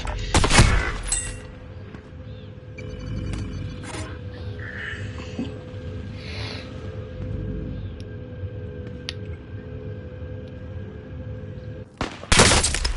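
Shooter video game gunfire bursts loudly at the start and again at the end, with quieter in-game clicks and mechanical sounds in between.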